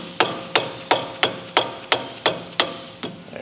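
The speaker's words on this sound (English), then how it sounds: "Sometimes it helps have a dead blow." A dead blow hammer drives a suspension bolt into the wheel carrier of a Porsche 992 Carrera during a coilover install, nine sharp, evenly spaced knocks about a third of a second apart, close and loud with short ringing decay.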